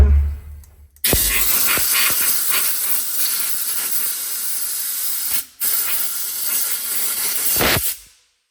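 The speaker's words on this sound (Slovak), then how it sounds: "Ešte pre istotu raz vyfúknem." Compressed air blasting through a BMW E60 car part in a workshop: a loud, sustained hissing jet, briefly cut off once before resuming, then stopping abruptly.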